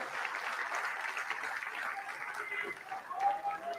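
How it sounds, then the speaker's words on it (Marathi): An audience applauds at a Sambhaji Brigade rally in Pune: continuous, fairly distant clapping that stays steady for a few seconds with a slight swell near the end. "टाळ्या वाजवा त्यांच्यासाठी"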